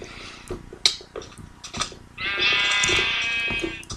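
Sheep bleating in the video game Minecraft, a sustained, fairly loud bleat taking up the second half of the clip after scattered short game clicks and clatter, with no talking.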